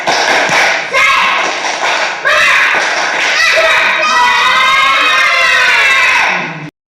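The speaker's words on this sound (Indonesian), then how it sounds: "Tepuk semangat." A class of schoolchildren performs a rhythmic clapping cheer, a series of sharp claps in quick patterned bursts mixed with children's voices chanting along, loud and close, ending abruptly.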